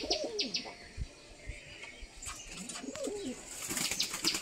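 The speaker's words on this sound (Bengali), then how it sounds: "তো এই যে হচ্ছে আমার সেই পায়রাটা" A pet pigeon coos in low, rolling bursts a couple of times, faint and close, with light rustles, small chirps and soft background noise in between, no talking.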